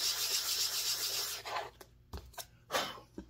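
Sandpaper rubbing over small wooden key fob pieces, a close, steady scratchy rasp that breaks into a few short separate strokes toward the end.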